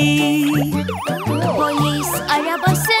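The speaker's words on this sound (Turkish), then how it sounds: "Polis arabası burada, nani nani." Police car siren in a children's song, a wailing up-and-down tone running throughout over a bouncy musical backing, loud and continuous with no talk.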